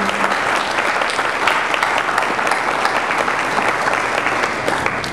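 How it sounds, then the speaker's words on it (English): An audience at an evening event gives the organizers a round of applause: loud, dense clapping from a crowd close by, sustained and even for the whole stretch. "So I'd like to everybody give a round of applause to them for this amazing evening"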